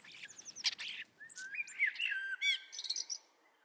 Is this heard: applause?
no